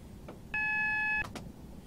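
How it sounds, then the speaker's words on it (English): The horn of a Class 220 Voyager train in Train Simulator 2015 sounds once as a clear, steady tonal blast lasting under a second, alone against quiet background noise. "Space and B for the two-tone horn"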